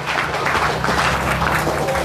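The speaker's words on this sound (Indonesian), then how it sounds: "Tepuk tangan dulu." Audience applause at a book discussion held in a café, a steady, even wash of clapping that holds for about two seconds over a low background hum.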